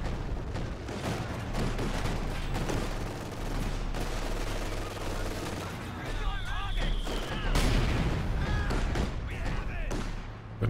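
Tulip rocket barrages and gunfire from a Company of Heroes 2 match, dense overlapping booms and crackling shots filling the clip, with commentators talking throughout.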